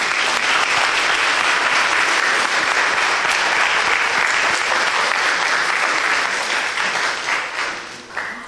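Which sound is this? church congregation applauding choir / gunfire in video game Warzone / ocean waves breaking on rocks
church congregation applauding choir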